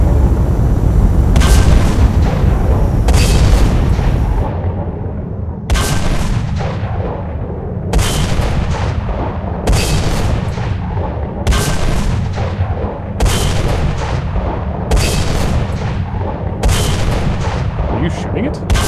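Heavy weapons fire in the Space Engineers video game, with loud booming shots repeating roughly every one to two seconds and a low rumble between them, no talking heard.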